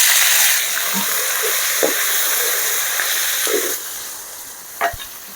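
Cinnamon, chili and garlic fry in a pan for a garlic kuzhambu, making a loud, continuous sizzle and hiss with scattered stirring clicks. The sizzle drops a little in level partway through.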